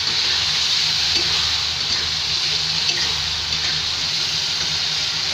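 Tomatoes frying with garlic masala in a pan for an eggplant, potato and black gram curry, giving a steady, even sizzle throughout with a faint low hum beneath and no talking.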